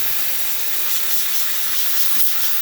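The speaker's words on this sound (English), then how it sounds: "Really nice pressure coming out from the steam one" A steam wand on a Euro 2000 espresso machine, freshly fitted with a new heating element, hisses steadily and strongly, a continuous close rush of steam with no talking.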